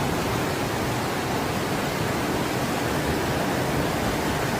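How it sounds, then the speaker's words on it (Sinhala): Floodwater surges across a town road under strong pressure, a dense unbroken roar that stays loud and even from start to finish. "පාරෙන් නම් අඩි 10ක විතර වතුර ප්‍රෙෂර් එකක් යනවා"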